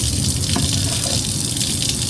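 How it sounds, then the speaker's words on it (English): Water gushes steadily and loudly into a Vitamix blender container while making rejuvelac, a continuous close pour with no talking. "I'm gonna put water in it so the ones that stuck to the side I can just clean off with that water"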